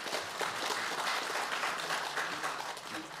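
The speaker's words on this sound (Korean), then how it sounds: "다시 한번 감사와 응원의 박수 부탁드립니다" An audience at a founding assembly claps steadily in thanks to a newly installed chairman, producing a dense, even wash of applause that continues throughout.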